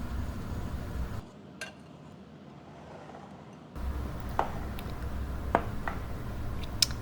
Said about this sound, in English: And then you're just going to whisk them all together until they're all nice and combined.